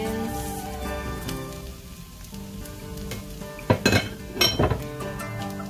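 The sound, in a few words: mixing egg and scallions together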